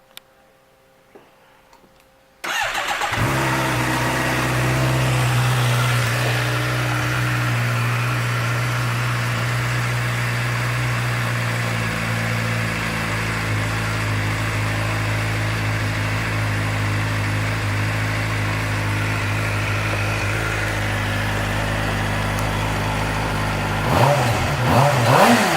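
A used 2011 Suzuki GSX-R600 sport motorcycle engine cranks and fires after a few quiet seconds, settles into a steady, even idle for about twenty seconds, then gets a brief blip of revs near the end.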